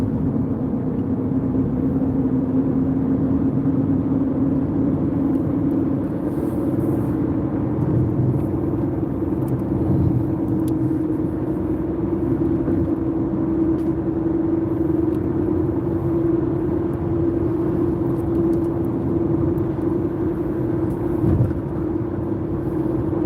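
A car drives along a road, heard from inside as a steady, even engine and road rumble with a low droning hum throughout and no talking.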